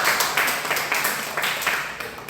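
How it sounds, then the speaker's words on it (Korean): A church congregation applauds together, a dense burst of many hands clapping at moderate distance, steady and brief. "우리 하나님께만 감사 박수하겠습니다."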